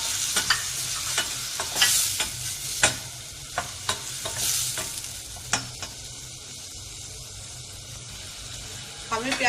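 Chopped onion sizzles in melted butter in a pan, a continuous hiss broken by sharp clinks and scrapes of a spoon stirring, with a voice speaking intermittently over it.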